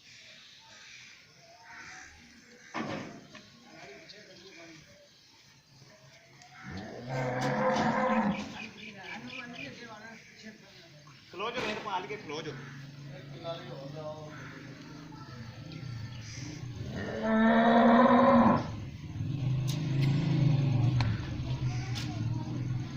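Buffaloes at an animal market in Bahawalpur low and moo repeatedly, several loud calls close by, mixed with crows cawing and people talking in the background.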